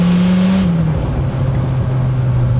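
A third-generation Dodge Viper engine drones at a steady 3000 RPM from inside the cabin, a deep even hum with a slight pitch drop, loud and constant.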